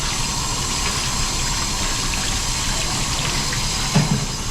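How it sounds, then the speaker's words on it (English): A pressurized water spray rinses dust off the blower blade of a two-pipe HVAC fan coil unit, a steady loud hissing gush filling the whole stretch with a brief splashy thump near the end. "I'm gonna hit this thing with some water pressure."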